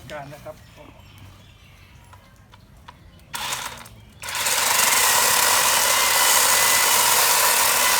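A battery chainsaw motor whines up sharply and runs loud and steady at high pitch, after a quieter stretch of rustling and brief starts.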